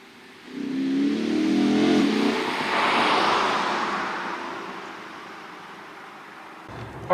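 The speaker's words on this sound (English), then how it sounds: "So let's go ahead, hop in it, take it for a ride." A used Lexus car pulls away and drives, its engine and road noise swelling quickly, holding for a few seconds, then slowly fading to a low hum.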